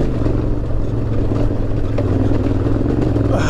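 A Yamaha Tenere 700 motorcycle rides over rocky alluvial-fan terrain in Death Valley, its engine droning loud and steady while wind and rough-ground rumble fill the background.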